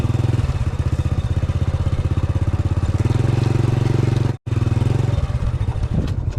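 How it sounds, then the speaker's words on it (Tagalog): A motorcycle engine putters steadily as it rides along a muddy rural village road, its throbbing idle-speed beat near and continuous, with one brief cutout near the end. "sa putikan eh nadadala mo yung motor mo hindi masyadong apektado ng dulas eh tsaka ng putik"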